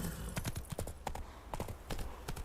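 Hooves of the horse Roach clop along in The Witcher 3, a quick irregular run of close, crisp hoofbeats on the ground at a gallop, with no voices heard.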